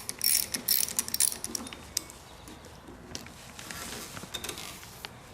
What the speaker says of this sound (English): I'm going to take another bolt out of the brake line clamp here to give me a little more slack in the brake line